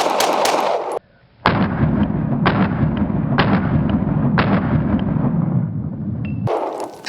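Rapid gunfire from a Hellcat Pro Plus pistol loaded with 124 grain rounds, a loud sharp shot near the start, then four evenly spaced close reports over a steady rumbling background.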